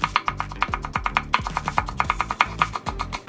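A knife chops red chili pepper on a cutting board in a rapid, steady series of sharp taps, close and clear, with no talking.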